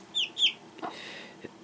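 Month-old silkie chicks cluck and peep in a house: two quick high chirps up front, then softer scattered clucks and rustling nearby, fairly faint overall.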